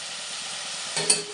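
Chicken and chana dal curry is stirred in a pot, a low steady simmering hiss followed near the end by a brief scraping stir and a metallic clink, close and quiet.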